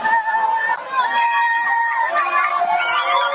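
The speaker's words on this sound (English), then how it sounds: "cheering as Red Cross vehicles carried Israeli hostages away, leaving Khan Yunis and the Gaza Strip headed toward Israel." Cheering and excited shouting come from a large crowd as Red Cross vehicles carry Israeli hostages out of Khan Yunis in the Gaza Strip. The noise is loud, dense and continuous throughout, with high voices rising above the mass.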